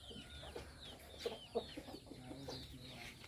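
A Bangkok fighting rooster clucks softly at a distance amid faint outdoor ambience, with a few louder clucks near the middle and small bird chirps in the background.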